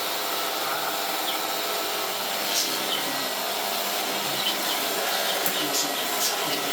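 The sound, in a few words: vacuum cleaner running on a rug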